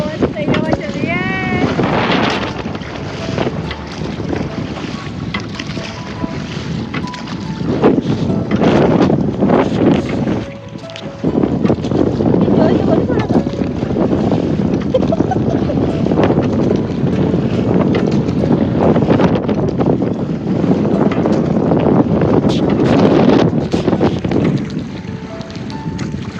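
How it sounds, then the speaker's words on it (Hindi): Strong wind buffets the microphone during a pedal-boat ride on Upper Lake in Bhopal, a loud continuous rumbling roar with a brief lull midway, and voices faintly underneath. "बहुत सही हवा चल रही है।"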